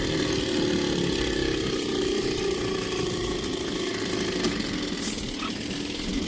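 A 1981 Sea King 7.5hp Chrysler-built twin outboard motor is cranked to start on an aluminum boat, giving a loud, close, steady mechanical whirring and ratcheting for several seconds without catching.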